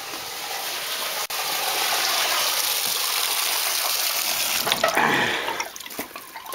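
Water gushes steadily from a tap or hose to fill a drink for a calf on a frozen, snowy farm, a loud close hiss that shifts in tone near the end.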